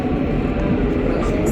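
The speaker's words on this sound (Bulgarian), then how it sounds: "This is an M3 train to General Vladimir Vazov." A Sofia metro M3 line train runs through the tunnel with a loud, steady low rumble and rail roar, while an onboard announcement voice speaks over it.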